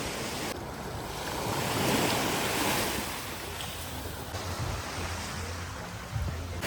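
Waves roll onto the long sandy shore of Long Beach on Phu Quoc, a continuous broad surf hiss that swells early and then settles, with some wind buffeting and no one speaking.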